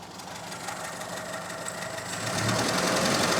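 A 998 engine fitted with a stage 1 kit runs steadily, its fast mechanical buzz and knock swelling louder as revs climb partway through, heard close with no talking.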